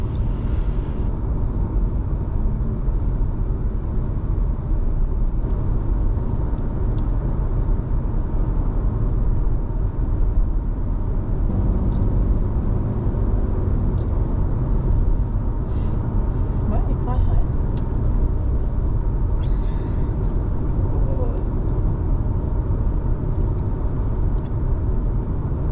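A car drives steadily along a road across Soldier Canyon Dam beside Horsetooth Reservoir near Fort Collins, giving a continuous low interior rumble of engine and tyres at an even level for the whole stretch.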